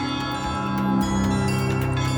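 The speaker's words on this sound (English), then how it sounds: "a clock tower with a famous chime" A famous clock tower chime at the Loreto pilgrimage complex in Prague rings out in sustained, overlapping bell tones that hold steady and resonant throughout, with no voices present.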